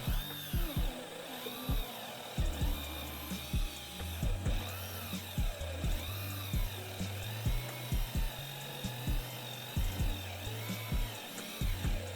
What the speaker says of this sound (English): drill the middle hole through all of them at once